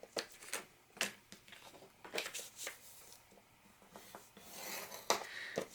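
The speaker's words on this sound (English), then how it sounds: "we're going to score each of those at half on the 6-inch side" Paper pieces being scored on a scoreboard for a nature album craft project, a series of short scratchy strokes and soft taps, close and quiet, with uneven gaps between them.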